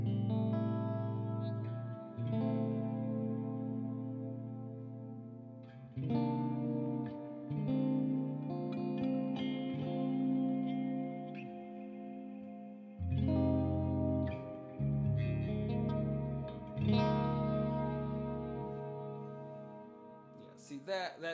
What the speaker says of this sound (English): pull the delay mix down, feedback up, reverb up, and then I would try and just use it for swelly stuff